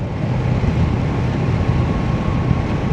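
A naked motorcycle cruising on a highway, giving a steady, loud engine drone blended with wind rush, continuous and without pauses.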